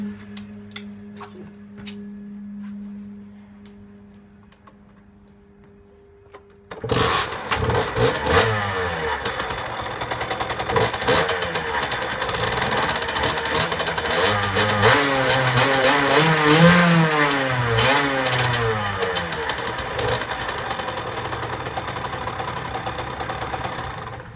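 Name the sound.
motorcycle engine starting and revving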